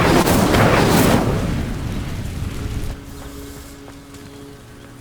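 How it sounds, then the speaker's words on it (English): In Hogwarts Legacy, an Incendio fire spell sets dry vines alight with a loud whooshing burst and roar that fades over a few seconds into quiet ambience. "These dry vines are one spark away from becoming kindling. Incendio!"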